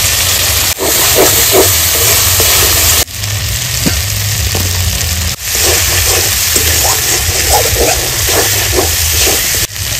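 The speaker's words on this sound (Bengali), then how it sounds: "সামান্য জল দিয়ে ভালো করে মশলাটা আমি একটু কষিয়ে নিচ্ছি 2-3 মিনিট ধরে" Spice paste frying in a pan with a little water for a village-style fish curry, giving a loud, steady hiss and sizzle that runs throughout at close range.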